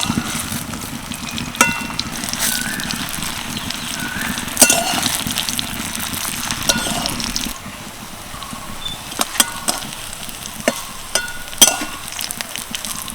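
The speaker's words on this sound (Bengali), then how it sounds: "এই টিফিনটা ভাজার সময় কিন্তু আঁচটাকে একদম কমিয়ে রাখতে হবে" Semolina-stuffed snacks frying gently in oil over low heat, a steady soft sizzle with occasional sharper crackles and light pops, close and continuous without talk.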